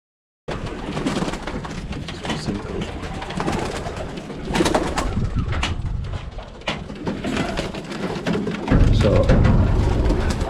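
Racing pigeons cooing inside a loft, layered throaty coos and occasional wing flutters, close and continuous, growing louder near the end, with no speech.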